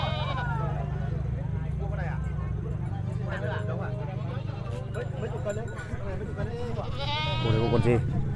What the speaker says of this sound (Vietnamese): Đây có con dê mẹ to chưa?